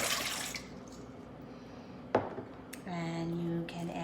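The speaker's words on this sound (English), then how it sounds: "you're going to pour your water in the bowl" Water being poured into a bowl for homemade sidewalk chalk paint, a short faint trickle followed by a louder splashing fill.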